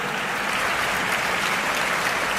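An audience at a motivational speech on IAS preparation gives a dense, continuous burst of clapping that stays loud and even from start to finish.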